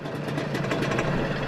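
A Trabant's 0.6-litre two-cylinder two-stroke engine runs with a dense, steady, buzzy rumble that holds at one level for a moment, close and fairly loud.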